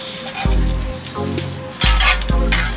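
Tortillas for beef enchiladas sizzle in a hot pan, with crackling bursts of frying and a few soft clunks as they are patted down and shifted, close and fairly loud.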